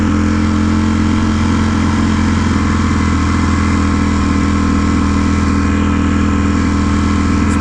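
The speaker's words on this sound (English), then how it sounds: "Bike does not like to go fucking slow either, especially in race mode." Akrapovic-equipped 2018 Ducati Panigale V4 S in race mode crawling at low speed, its engine giving a loud, steady, close-up drone that holds unbroken throughout.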